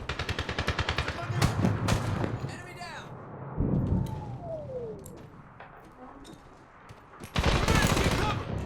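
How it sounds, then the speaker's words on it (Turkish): Medal of Honor battle gunfire, bursts of rapid automatic shots and scattered single cracks from several directions, loud and near, with voices talking over the shooting and a whistling projectile passing. "Abi her yerden kurşun geliyor."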